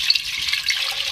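About two glasses of water pour into a pot of beef karahi on the stove, a short, close, steady splashing rush with no talking.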